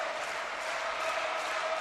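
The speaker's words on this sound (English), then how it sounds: "Crowd is on their feet." Steady roar of a crowd cheering at a college volleyball match between Wisconsin and Illinois State in an NCAA tournament second-round game, a dense continuous wash of noise holding evenly throughout.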